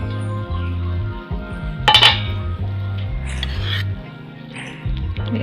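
A metal lid set onto a cooking pot of sour fish curry on a gas stove gives a bright clink and rattle, with softer kitchen clatter after it and a low hum of the flame beneath.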